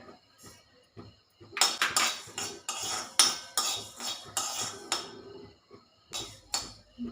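Coriander seeds, then cumin, dry-roast in a hot kadhai for Kolhapuri egg curry, heard as bursts of metal spatula scraping and clinking against the pan with short quiet gaps, close and fairly loud.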